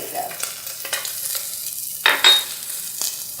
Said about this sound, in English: I'm going to get ready for the sizzle. I love that noise.